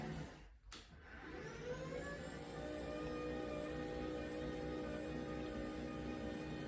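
A Sanodesk 180x80 electric standing desk motor lifts extra weight: a brief knock, then a steady, smooth motor hum with a faint whine that holds evenly and nearby.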